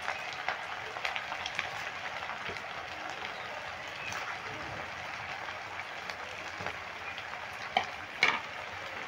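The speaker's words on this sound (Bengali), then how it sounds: "এবার বানানো চমচমগুলো আমি তেলের ওপরে দিয়ে দিচ্ছি একে একে করে।" Semolina chomchom sweets fry in hot oil in a wide pan, a steady soft sizzle with occasional small pops and clinks, fairly quiet and without talk.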